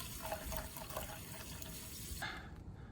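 Water pouring from a tap into a pot of rice being rinsed, a steady, fairly quiet splashing stream that stops near the end, with no talking.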